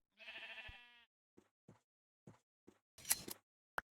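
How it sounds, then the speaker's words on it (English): A white sheep bleats once, a short quavering cry in the video game Minecraft, followed by quiet scattered clicks and soft footsteps. "we have some white sheep here"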